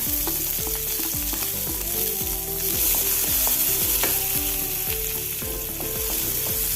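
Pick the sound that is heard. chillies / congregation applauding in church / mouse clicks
chillies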